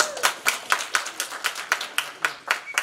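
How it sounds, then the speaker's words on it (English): A short burst of rhythmic hand clapping at a candidate meet-and-greet, about a dozen even claps in quick succession, bright and close. "let's clap for Phil."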